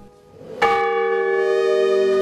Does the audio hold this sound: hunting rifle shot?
no